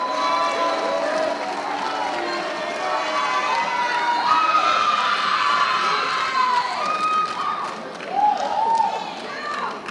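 A large crowd at a high school football awards banquet cheers and shouts loudly, high voices whooping and calling out in a sustained roar that swells and dips.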